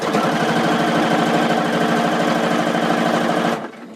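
A sewing machine runs in one steady, loud burst while stitching along the edge of a fabric face mask, then stops abruptly.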